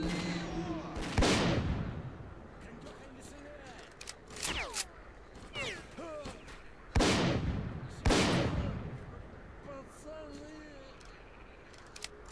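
Gunfire in S.T.A.L.K.E.R.: Clear Sky cracks in sharp, loud bursts of single shots and short volleys, spaced irregularly, with someone talking excitedly between and over them.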